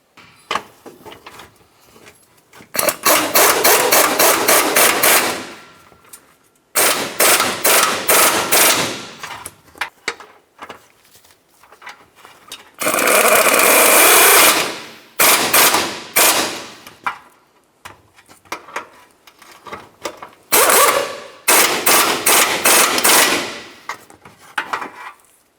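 A power impact tool hammers nuts onto the studs of a 1994-2002 Dodge Ram 2500 front bumper bracket in loud, rapid rattling bursts of a few seconds each, separated by short pauses.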